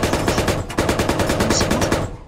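Gunfire in the Squad military shooter video game: rapid, evenly spaced automatic shots in a loud, sustained burst lasting about two seconds.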